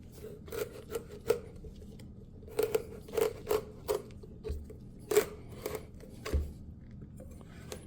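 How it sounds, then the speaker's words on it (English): A knife slicing the tough rind off a big Bullet Head wax melon, giving irregular close crunchy scraping cuts in short bursts with pauses between strokes, fairly quiet with no talking. "because we got to take this rind off, I'm going to cut it probably"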